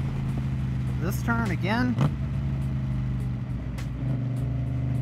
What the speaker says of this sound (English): So I'm going to accelerate here, clutch in, click up, pull throttle.